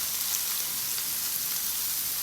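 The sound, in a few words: aubergine frying and sizzling in pan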